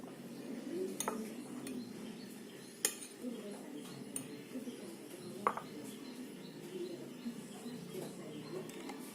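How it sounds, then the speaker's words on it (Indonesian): A spoon stirs coffee powder into a solution during a biology lab practical, giving a few faint, scattered metallic clinks over a low steady background hum. "Kita aduk agar merata."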